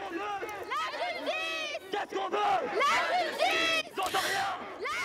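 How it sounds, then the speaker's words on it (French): Protesters at a sit-in, a mixed crowd of young and old, chant slogans together in loud, rhythmic bursts of many voices, rising and falling in waves close by. "Les manifestants sont assis et scandent les slogans"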